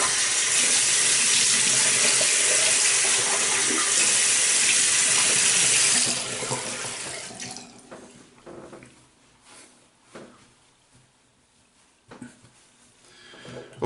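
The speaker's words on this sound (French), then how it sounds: "Je vais rincer ma figure" Water pours steadily from a bathroom tap into a sink during a traditional wet shave, then cuts off around six seconds, leaving faint drips and small splashes as a face is rinsed.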